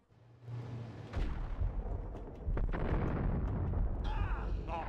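Gunfire in the shooter game Max Payne, with heavy booming bursts and pops that fill the scene after a short quiet start, dense and continuous to the end.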